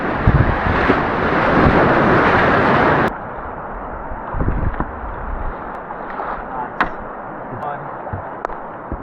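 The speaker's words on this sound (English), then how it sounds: "We've had a headwind, we've had it raining" A headwind on a river during a kayak trip on Idaho's South Fork Salmon buffets the microphone in a loud roaring rush for about three seconds, then drops to quieter rustling gusts and water noise.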